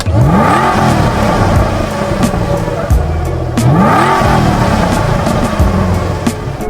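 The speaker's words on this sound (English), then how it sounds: "Oh, hear that supercharger." A supercharged Ford GT engine revs hard twice, each surge climbing with a whining whir over a loud, rough roar.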